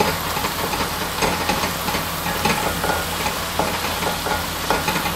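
Whole spices for mutton qeema sizzling in a hot pan, a steady bright frying hiss with faint stirring scrapes throughout.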